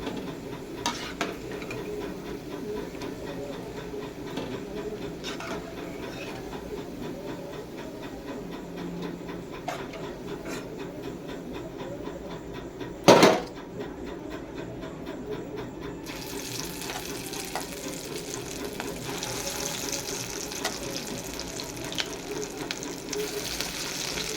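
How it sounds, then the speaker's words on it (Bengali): Pakoras frying in hot oil with a steady, low sizzle and occasional stirring, one sharp clatter midway, close up with no talking. "পকোড়াটা ভেজে নেবো চলো"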